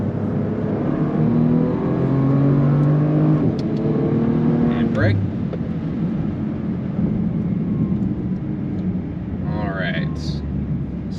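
A 2022 Bentley Continental Speed engine drones and builds on a race track, a steady loud roar with a rising pitch, while an instructor talks over it throughout.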